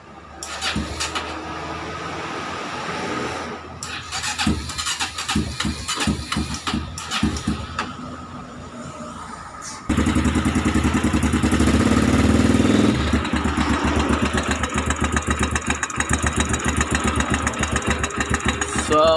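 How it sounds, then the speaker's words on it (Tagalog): Honda XR200 motorcycle engine idling with a camshaft fault, giving a steady close-up running note with a rapid rhythmic clacking tick; the engine grows louder and busier about halfway through. "Ito XR200. Tunog lato-lato."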